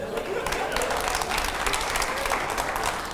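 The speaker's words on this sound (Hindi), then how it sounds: "चलिए जोरदार तालियां हो जाए" An audience bursts into loud applause during a televised Hindi debate program, continuous dense clapping lasting the whole stretch.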